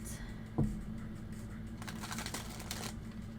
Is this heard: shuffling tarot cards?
yes